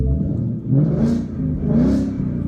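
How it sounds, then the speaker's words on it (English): A 2016 Ford Mustang GT with a six-speed manual and Borla S-Type cat-back exhaust, heard from inside the cabin as two deep rising revs swell and fall over a low steady rumble. "So that's the Borla S-Type exhaust."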